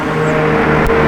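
A Lamborghini Urus S, finished in an unusual paint scheme with orange calipers and black wheels, fires up with a loud, steady engine roar held close and continuous through a brief moment, with no talk over it.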